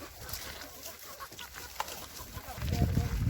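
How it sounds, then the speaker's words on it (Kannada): Chickens cluck among sheep in a farmyard, a busy, noisy scene of scattered fowl calls that swells louder near the end, with faint voices in the background. "ಕೋಳಿಗಳು ನೋಡಿ"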